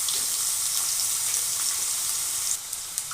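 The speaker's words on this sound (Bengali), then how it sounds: "এবার আলুটা একটু ভাজা ভাজা হলে দিয়ে দেবো গাজর" Potatoes and carrots frying in oil in a wok for shukto, a dense, close sizzle holding steady and then dropping a little quieter at the end.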